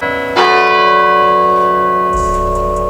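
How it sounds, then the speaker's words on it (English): A church bell at St Mary's Church, Whitby, tolls once loudly and close, its rich ringing tone sustaining and slowly fading over a few seconds. "An ominous toll of the bells"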